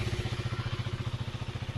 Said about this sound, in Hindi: थोड़ी बाइक की आवाज़ सुनाते हैं आपको।